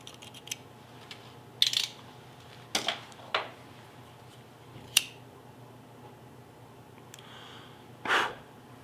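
Scissors cut the knot of a bow string silencer, giving a few sharp, faint snips and clicks spaced apart in an otherwise quiet room, with no voices.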